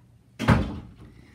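A camera gets knocked over at an airport: one sudden clattering thump, loud and close, then a short rattling decay with no talk.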